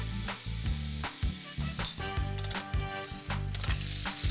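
Pork-wrapped rolls taken straight from the freezer fry in a frying pan, giving a continuous close sizzle beneath steady background music.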